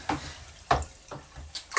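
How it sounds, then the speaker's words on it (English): Liquid being stirred to dissolve its contents while making spirits with an Air Still, heard as several short sloshing swirls at irregular intervals, close and fairly quiet, with no talking. "Gonna give it a good stir, get it all dissolved."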